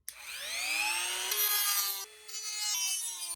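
A carbon fiber mirror cap for a Mercedes being trimmed down, giving a steady scraping, rising whine that runs for a few seconds, breaks briefly, then resumes, close and fairly loud with no talk.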